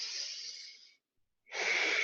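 Slow, steady breaths during a gentle flow yoga class: a long soft airy exhale fading out, a brief silence, then another breath swelling in, close and alone without talk.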